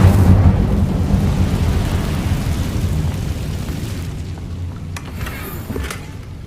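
Incendio fire spell cast in the Hogwarts Legacy video game, a loud whooshing burst of flame with a deep rumbling roar that slowly fades, followed by faint crackling and sparkling tones near the end.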